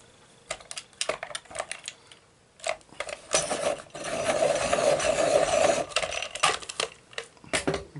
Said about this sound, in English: Let me just sharpen that.